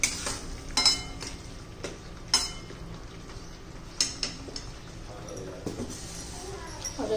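Metal spoon scrapes and clinks against a pan while masala with bay leaf, cloves and pepper is stirred and fried for a potato and peas curry, sparse sharp taps over faint sizzling, with a voice talking throughout.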